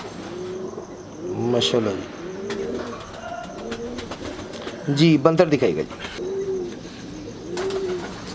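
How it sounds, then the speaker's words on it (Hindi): Pigeons coo in a loose rhythm, soft repeated calls at close range, while someone talks over them almost throughout and another bird call rises briefly in the middle. "आपने बड़ा कंप्लीट कबूतर दिखाया आपने"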